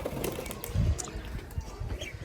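Pigeons being released make soft, low cooing and muffled fluttering bursts at close range over a couple of seconds, with no one talking.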